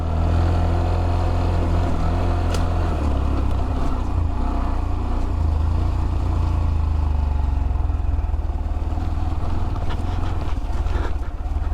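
Small off-road motorbike engine running steadily on a rocky Ozarks trail, a loud, continuous close mid-pitched drone with rough mechanical texture and occasional knocks, no talking.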